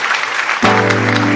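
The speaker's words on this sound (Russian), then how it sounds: "Аплодисменты." Studio audience applause greeting the guest of an online music show, dense clapping that gives way to a sustained musical tone midway.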